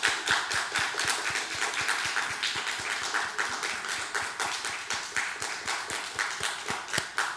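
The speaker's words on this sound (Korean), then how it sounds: "박수로 축하해 주시기 바랍니다" A church congregation claps in celebration of a confirmation during a Sunday worship service, a fairly rhythmic, moderately loud round of hand claps that keeps an even pulse, with faint speech underneath.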